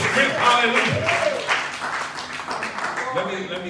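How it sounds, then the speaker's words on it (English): Church congregation at a Sunday morning service claps hands in praise, a busy ongoing patter of clapping mixed with voices and a preacher talking over it. "give God a hand clap of praise right now"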